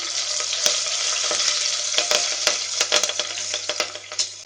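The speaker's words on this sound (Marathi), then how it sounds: "आता तातूंत करबिलाची पानां घालता आणि हरव्यो मिरसांगो हे सगळें घालून आमकां मातशें धवळपाक जाय" Curry leaves and green chillies fry in hot oil for Goan chana usal, making a loud, continuous close-up sizzle broken by sharp crackles and spatters that grow more frequent toward the end.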